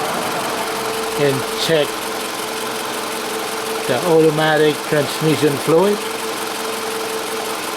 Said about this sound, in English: And leave the engine running